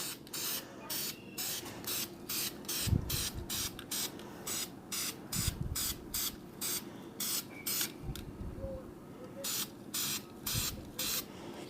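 Aerosol spray paint hisses in repeated short bursts onto a Honda Spree scooter part, coating it flat black, with brief pauses between passes and a few light knocks underneath.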